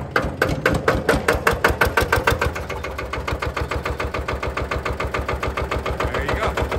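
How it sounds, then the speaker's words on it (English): A single-cylinder Lister diesel engine on a buggy thumps loud and close at a steady, rapid chug, each firing stroke a distinct knock with a mechanical clatter on top, running alone without talk. "And it's a single cylinder Lister diesel."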